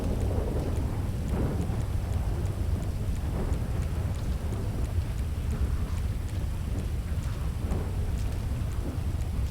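A steady roar of heavy rain mixed with low rumbling thunder and gusting wind fills the whole stretch, broad and continuous with no voices.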